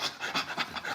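An American Bully puppy pants in quick, rhythmic breaths, about four or five bursts a second, close and steady with no talking over it.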